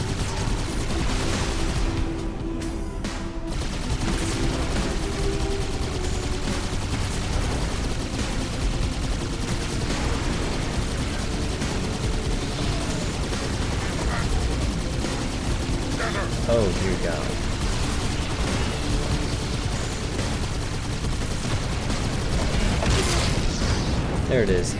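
Rapid gunfire from a tank and infantry weapons in a Halo 2 battle on Legendary difficulty, dense continuous bursts and booms throughout with a voice speaking over the shooting.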